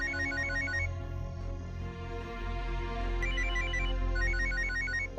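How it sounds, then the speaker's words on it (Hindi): A telephone rings late at night with a repeating electronic ringtone in short trilling bursts, loud and steady across the whole stretch over a continuous music-like background, with no talking. "इतनी रात को कोई फोन कर रहा है तो इमरजेंसी होगी"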